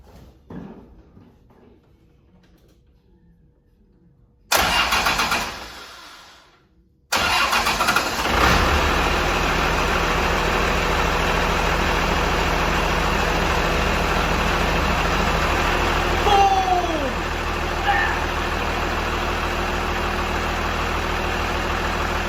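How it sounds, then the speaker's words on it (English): A Cummins diesel engine swapped into a Squarebody Suburban cranks, stalls briefly, then fires up and settles into a loud, steady idle close by, running on alone with a faint squeal partway through. "It is firing up, turning over, running, idling, and sounding so good."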